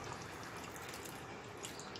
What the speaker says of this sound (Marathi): हे जे मटण सूप होतं तेच पाणी मी यामध्ये ॲड करणार आहे.